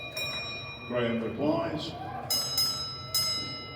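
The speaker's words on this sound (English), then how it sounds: "Steve sends the train out of section bell signal, which is 2-1." A Lancashire and Yorkshire Railway signal box bell rings the train-out-of-section code, 2-1, on a training layout: brief ringing strikes with a pause before the last, heard after someone speaks.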